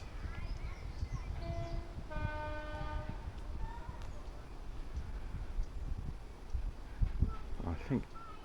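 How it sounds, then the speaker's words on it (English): A diesel rail coach pulling in at a heritage railway centre during a Flying Scotsman event, heard as a low rumbling approach with a clear horn blast partway through, over outdoor background noise. "I think the railway coach, or the diesel rail coach, is coming"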